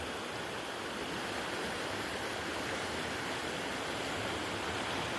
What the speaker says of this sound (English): So this is the Virgin River right here